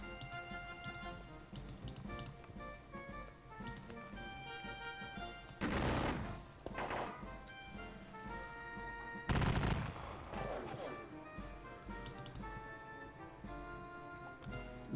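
Musket volleys from the Gordons and Royal Scots in a Battle of Waterloo wargame, heard as two loud bursts of massed gunfire over a steady musical background, with a few fainter shots between them.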